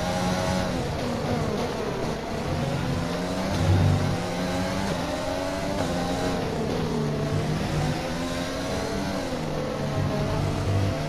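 A race car engine in a racing video game hums and revs steadily, its pitch rising and falling as the car flows through corners; loud, close and continuous with no voices.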